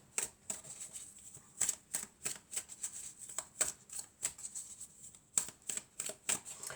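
Tarot cards are shuffled and drawn in repeated crisp riffles and flicks, close and fairly quiet, in an uneven rhythm with brief pauses between bursts.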